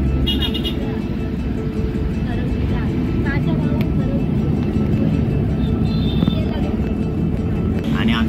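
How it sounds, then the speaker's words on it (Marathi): An Eco van drives up toward Khandala Ghat, its engine and road rumble steady and loud from inside the cabin throughout, with faint voices now and then. "आमची गाडी स्टार्ट झालेली आहे."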